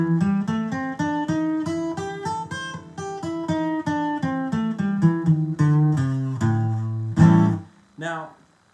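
Guitar running through a blues scale with its added flat five note, single notes picked in steady succession up and back down, finishing on a strummed chord that rings out, close and clear with no talking.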